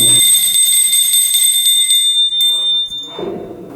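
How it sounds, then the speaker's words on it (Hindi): A temple bell rings out loud and close with a sustained bright metallic tone, struck a few times and left to ring before fading, with faint voices near the end. "घंटी तो बजा ही सकता हूँ."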